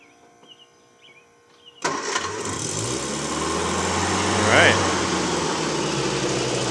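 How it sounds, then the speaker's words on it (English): A 1967 Triumph Herald 1200 at a barn-finds auction starts from cold: a sharp cranking burst, then the small engine catches and settles into a steady, close idle that swells slightly, with faint talk beforehand. "we're gonna have the seller start it for us real quick"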